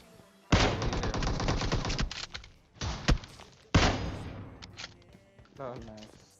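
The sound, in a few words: gunfire in the video game PUBG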